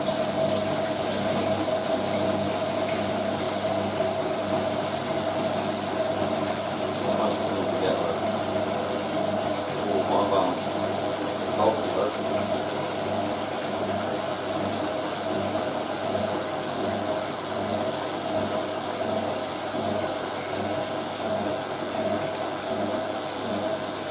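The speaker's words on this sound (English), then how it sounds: "Just a distribution drain first spin." Hotpoint 9530 Electronic 1000 Plus washing machine running a distribution drain before a spin on a bulky load, a steady hum of the drain pump and motor with faint knocks and sloshing throughout, while a person talks over it.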